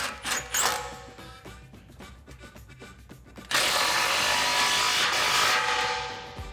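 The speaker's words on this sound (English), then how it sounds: "now you can tighten down your clamp" A power tool tightens an exhaust clamp while a Borla ATAK axle-back muffler is fitted to a 2013-2014 Mustang GT, with scattered mechanical clatter giving way to a loud, steady whirring burst partway through that runs to the end.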